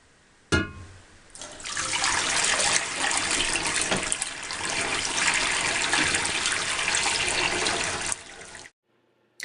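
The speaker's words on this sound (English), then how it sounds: "we're going to swirl the hot water around in our jar to make the condensation go away" Hot water swirls in a glass jar and is dumped out, a loud, continuous gushing pour after a sharp clink that cuts off abruptly into silence.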